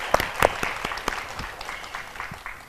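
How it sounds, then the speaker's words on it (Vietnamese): An audience breaks into applause, starting with a few sharp, close claps that quickly thin into a lighter, scattered patter fading toward the end. "Bây giờ cho một tràng pháo tay đi cho nó sôi nổi này."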